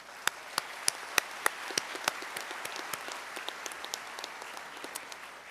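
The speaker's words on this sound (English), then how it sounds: "I think that's worth a hand of applause for them." Sparse, scattered clapping from a commencement audience honoring faculty at a pharmacy college graduation, individual claps standing out distinctly over a faint room hum, moderately distant and thinning toward the end.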